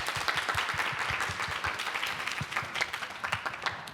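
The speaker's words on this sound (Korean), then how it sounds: "우리 스스로를 격려하는 차원에서 우리 박수 한번 쳐볼까요?" Studio audience clapping together at a televised education panel programme, a steady patter of many hands with a few louder beats, moderately close and continuous for about four seconds with no speech over it.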